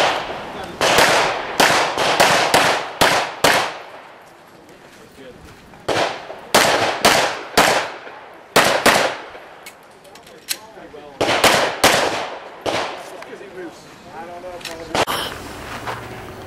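Pistol or rifle shots at an IDPA shooting match at a gun club, fired in sharp, loud bursts of several quick shots separated by short pauses, with faint talk between strings.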